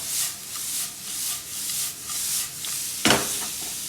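Carrots with salt sautéing in a pan, a soft rhythmic stirring scrape and gentle sizzle repeating in waves, ending with one sharper clack of the spatula against the pan.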